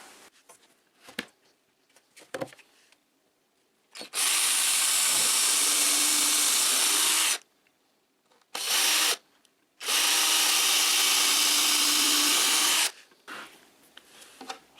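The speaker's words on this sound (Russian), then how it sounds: "Буду прикручивать саморезами." A power drill drives self-tapping screws into plywood in loud, steady bursts of a few seconds each, separated by quiet pauses with small handling knocks and clicks.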